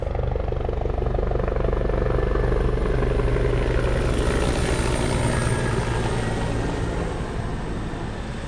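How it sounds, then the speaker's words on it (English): A helicopter drones steadily overhead, loud and continuous rotor thumping and engine roar filling the whole stretch without letup. "I knew that helicopter was going to come back."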